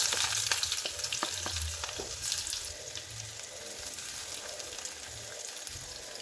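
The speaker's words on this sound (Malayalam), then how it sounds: "ഉലുവ ഒന്ന് ചൂടായി വരുമ്പോൾ അതിലേക്ക് ഒരു ഉള്ളി കട്ട് ചെയ്യുന്നതാണ്" Thinly sliced onion frying with fenugreek seeds in hot oil in a pan for a spicy crab curry, a steady close sizzle with a few scraping stirs and clicks, no voices.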